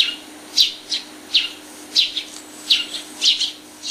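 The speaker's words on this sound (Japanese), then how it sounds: "チュンはおじいさんをスズメのお宿に招待しました" Sparrows chirp in short, bright bursts, about six evenly spaced calls over a few seconds, fairly close and clear over a faint steady hum, with no talking.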